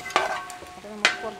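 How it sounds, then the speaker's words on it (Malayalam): A roasted ground spice paste gets stirred in a pan for a Kerala quail roast, two quick scraping strokes of a spoon over a soft sizzle, close and brief. "ആ വറുത്തരപ്പ് ഇട്ട് കഴിഞ്ഞാൽ പിന്നെ ഇളക്കാണ്"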